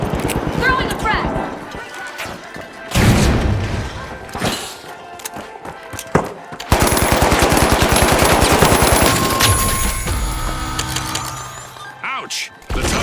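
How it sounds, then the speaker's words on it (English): A frag grenade is thrown and bursts in the shooter game The Finals. Loud blasts land amid rapid machine-gun fire and clattering game effects, with voices mixed in. "Throwing a frag."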